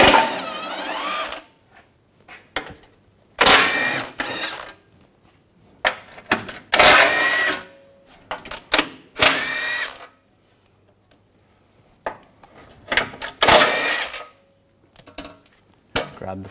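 A power tool with a 16 mm socket removes the bolts on a shield plate under a 2006-2010 BMW 550i 4.8L V8. About six loud whirring bursts come in quick succession, with brief quiet pauses between them.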